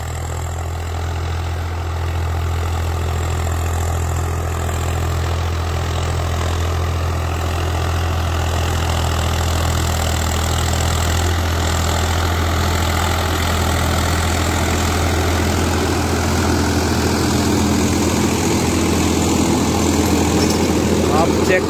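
A Swaraj 744 XT tractor engine idles and runs steadily with a deep, constant drone, a rotavator churning along beneath it, close by and unchanging.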